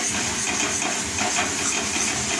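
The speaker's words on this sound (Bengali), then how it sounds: "এইভাবে নাড়াচাড়া করে নেব। মোটামুটি হয়ে এসেছে, আর অল্প একটু ভাজলেই এটা হয়ে যাবে।" Mashed cabbage fries in a pan with a steady, loud hissing sizzle that carries through without pause or distinct stirring strokes, and nobody talks.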